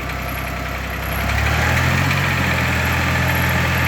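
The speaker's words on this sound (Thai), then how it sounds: "ตัวนี้ก็จะเป็นยันมาวายเอ็มนะครับหนึ่งหกหนึ่งศูนย์เครื่องยนต์สามสูบ" A Yanmar YM1610 16-horsepower three-cylinder diesel tractor engine idles steadily, then revs up around the middle and holds at a higher, louder pitch; close and continuous, no voices.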